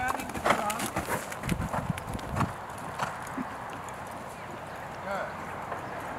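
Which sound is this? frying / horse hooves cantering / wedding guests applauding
horse hooves cantering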